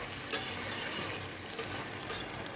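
Pumpkin stems and shrimp simmering in a pan are stirred, giving a soft sizzling hiss broken by a few brief scraping clinks of the spoon against the pan, close and fairly quiet with no voices.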